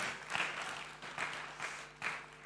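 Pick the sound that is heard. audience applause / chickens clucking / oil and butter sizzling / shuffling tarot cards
audience applause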